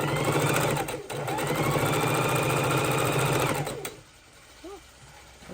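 A sewing machine runs steadily, stitching quilt pieces for an easy four-patch baby quilt, a close, continuous mechanical whir that cuts off near the end, followed by quieter handling sounds.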